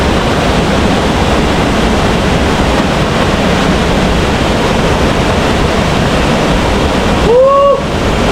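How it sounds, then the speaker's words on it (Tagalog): A river in Paluan, Occidental Mindoro rushes loudly and steadily in a dense, unbroken roar of flowing water, with a brief voiced whoop rising over it near the end. "Ito ang ilog."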